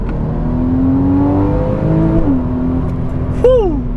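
A Porsche 981 Cayman S engine with stock factory exhaust revs up, its pitch climbing steadily, then drops and rises again in a sharp rev, loud and close, with no talking.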